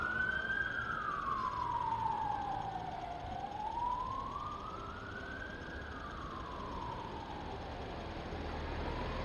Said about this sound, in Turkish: Ambulansmış.